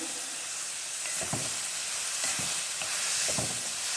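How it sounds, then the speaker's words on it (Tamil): Vegetables, brinjal and garlic sautéing in oil for moong dal idli sambar, a steady sizzle with a few scraping stirs of the spoon through the pan, close and continuous with no talking. "எல்லாத்தையும் எண்ணெயில் வதக்கிடலாங்க"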